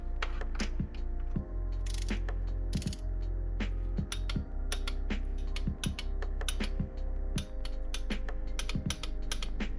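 A torque wrench tightens spark plugs on a 1.8-liter Mazda Miata, giving rapid, crisp ratcheting clicks in uneven runs, close and fairly quiet, with no talking.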